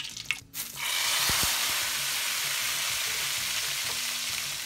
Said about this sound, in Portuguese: Vou deixar fritar. Até começar a é, dar aquela crostazinha no fundo da frigideira.